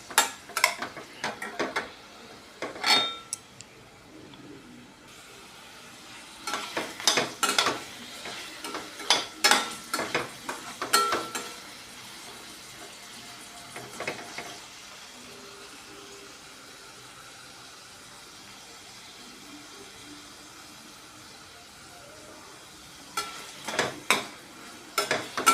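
Paneer pieces shallow-frying in a pan, with bursts of scraping and clattering as they are turned, separated by quieter stretches of low frying hiss.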